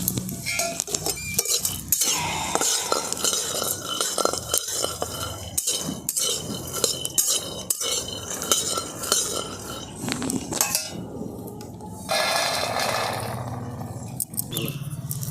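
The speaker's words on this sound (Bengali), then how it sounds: "বাদামগুলো আমি বেশ শুকনো কড়াতে অনেকক্ষণ নেড়ে নিয়েছি।" Peanuts stirred in a dry wok for roasting, with repeated scraping and rattling from the utensil against the metal, sharp clinks in an irregular rhythm, close and fairly loud.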